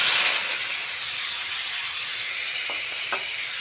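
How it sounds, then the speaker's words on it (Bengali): Chopped tomato tipped into a hot pan of sizzling tempering, a loud burst of hiss and steam at the start that settles into an even, close sizzle with a couple of faint clicks. "কয়েক সেকেন্ড ফোড়নটা ভাজার পর কুচিয়ে রাখা টমেটোটা দিয়ে দিচ্ছি।"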